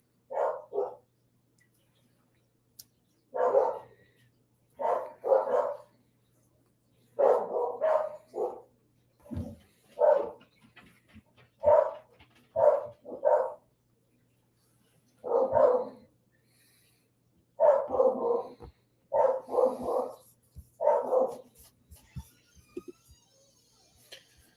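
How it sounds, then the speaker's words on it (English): Several dogs bark in irregular bursts, loud and fairly near, with short gaps of quiet between the volleys and no talk over them. "Oh, the dogs are barking."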